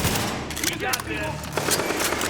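Rapid automatic gunfire from The Division video game, a steady stream of sharp shots over the whole stretch with a voice faintly present.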